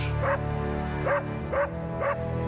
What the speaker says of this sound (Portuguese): o cão de Albert não para de latir